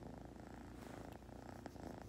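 A steady close purr from Oreo, a pet cat, rolling low and continuous throughout with no voices over it.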